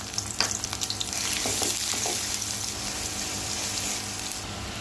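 Chopped onions fry in oil with cinnamon, cardamom and bay leaves, giving a soft, continuous sizzle and a few spatula scrapes and stirs near the start, close but fairly quiet, with no talk.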